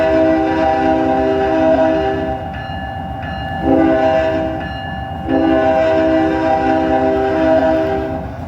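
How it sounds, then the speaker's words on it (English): A custom horn on a BNSF ES40DC or ES44C4 diesel locomotive in a train simulator game blares loud and close as a sustained multi-tone chord, with a brief dip midway before resuming steadily. "this is one of the custom horns I put on it"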